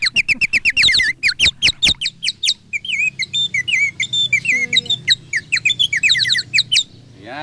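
Rapid warbling, bubbly bird-like whistles in bursts and trills, loud and close, a human imitating birdsong by blowing through water.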